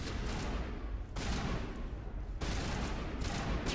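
Weapon fire in the sci-fi shooter Mass Effect, dense continuous rapid bursts in three long stretches separated by brief breaks, loud and close throughout.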